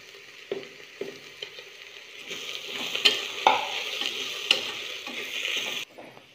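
Green chillies for a beef curry sizzling in a hot pan as they are stirred, a steady bright fry with several spatula scrapes and taps, close and clear with no talking.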